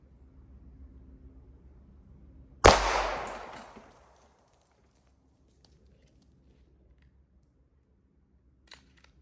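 A single loud Glock 19 pistol shot fired with zombie ammo at a small trinket target cracks sharply and rings out for about a second, followed by near silence and faint small clicks.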